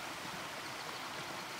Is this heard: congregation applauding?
no